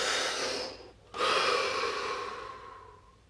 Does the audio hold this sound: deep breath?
yes